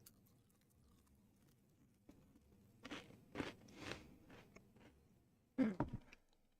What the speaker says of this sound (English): I have snacks up here too, in case you hear crunching.